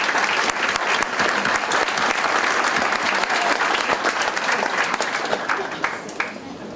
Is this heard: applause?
yes